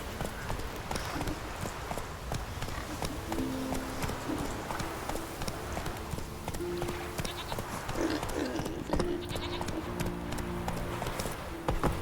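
Horse hooves clip-clop steadily at a walking rhythm in The Witcher 3, mixed with a continuous wash of outdoor ambience and a few faint animal and tonal sounds in the background.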